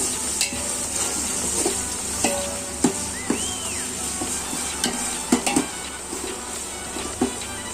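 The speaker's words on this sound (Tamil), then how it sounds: "இஞ்சி பூண்டு பேஸ்ட்டை நல்லா வதக்கி விடுங்க." Ginger garlic paste sautéing in a pan for chicken biryani, with a steady low sizzle and occasional scrapes and clinks of a stirring spoon against the pan, close and moderately loud.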